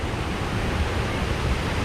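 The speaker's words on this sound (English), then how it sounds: "Cool waterfalls. What more could you ask for?" A waterfall in the Mexican jungle near Tulum gives off a steady, full rushing roar of falling water, constant and close with no voices.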